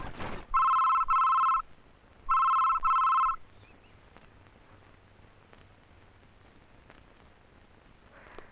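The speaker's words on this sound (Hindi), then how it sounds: "जानकी, जानकी तुम्हारे भैया का फोन आया है।" A telephone bell rings in two long bursts with a short gap between them, loud and close, followed by a quiet room tone.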